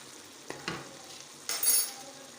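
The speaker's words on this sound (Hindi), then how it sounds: "अब हम 10 मिनट इसको इसी तरह भूनेंगे।" Mutton chops frying in a pan for a gravy, a soft steady sizzle with a couple of stirring scrapes and a brighter crackling burst near the end.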